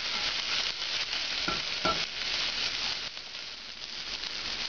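Vegetables and garlic sizzle in a pan for osso buco, a steady bright crackling hiss with a couple of stirring scrapes partway through.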